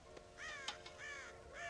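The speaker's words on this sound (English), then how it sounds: "God damn crows!" Crows cawing in a Western open-world video game, several harsh rasping caws in quick succession, fairly faint and distant with a soft background bed.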